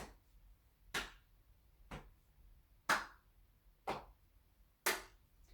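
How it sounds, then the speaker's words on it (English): During a chair-based exercise session, five single handclaps ring out about once a second, each one crisp and isolated against a quiet room. "clap each side."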